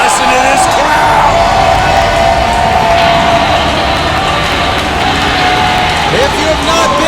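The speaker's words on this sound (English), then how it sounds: "Ooh, listen to this crowd!" A wrestling arena crowd roars and cheers steadily with dense, loud, continuous noise and occasional whoops, a commentator's voice talking over it throughout.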